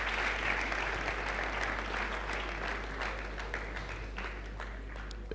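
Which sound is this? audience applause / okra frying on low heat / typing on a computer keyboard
audience applause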